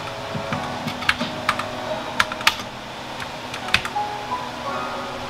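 Computer keyboard typing while entering text in decal-making software for a vinyl cutter: a run of distinct, irregular key clicks, close and clear, with no talking.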